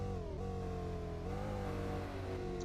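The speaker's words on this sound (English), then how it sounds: "That traffic car, whatever it is, very slow, but that car is very loud. You could hear it there as we went past." A slow traffic car in the Need For Speed Porsche Unleashed racing game drones with a loud, steady engine note that rises and shifts in pitch as it is passed, heard fairly faintly without talk.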